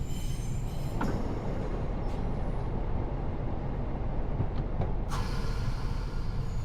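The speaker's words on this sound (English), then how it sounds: "I do like the sounds on this unit, the brakes coming on and off." Train brakes applying and releasing on a unit in Train Sim World 6 on the Preston–Carlisle line, a constant rumbling run with a few sharp hissing air releases, one strong burst near the end, and no talking.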